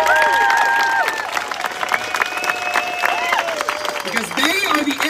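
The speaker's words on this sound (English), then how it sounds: "let's give them a big round of applause" Outdoor rally crowd at an education protest in Leesburg, Virginia, clapping and cheering for a group of moms and a dad; steady applause with scattered whoops and whistles, loud at first and then settling, with voices mixed in.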